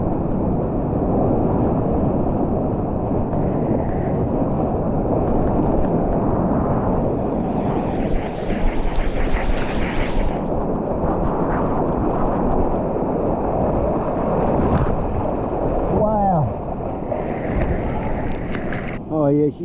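Surf zone with whitewater rolling in around a GoPro Hero 9 whose battery door was left open, a loud, dense roar of rushing foam and water dominating throughout, with bursts of wind buffeting and splashes.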